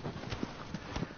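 The horse Agro gallops in the video game Shadow of the Colossus, giving a quick run of close hoof thuds in a rapid, uneven clip-clop rhythm.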